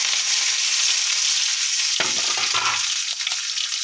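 Mustard seeds for rasam frying in hot oil: a steady bright sizzle throughout, with a few soft pops and a brief clatter midway, close and fairly loud, no voices.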